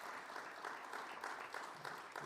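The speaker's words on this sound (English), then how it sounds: "Could our audience here give Jon a round of applause?" Steady applause from an audience at a fireside chat, a dense patter of clapping hands continuing throughout without pause.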